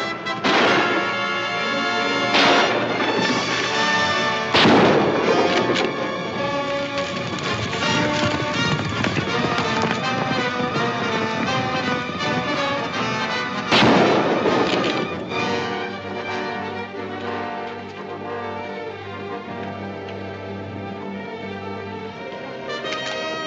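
Winchester rifle shots crack out a few times amid a western movie scene, spaced bursts over continuous music and hoofbeat-like rumble, moderately loud.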